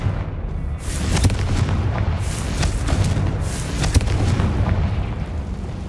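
Confringo blasting curses explode in Hogwarts Legacy, with several heavy booms and bursts over a rumbling background, loud and close.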